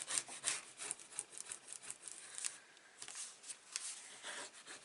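Paper is burnished along the edge of a mini album piece, giving close, quiet, scratchy rubbing strokes repeated in a quick irregular rhythm.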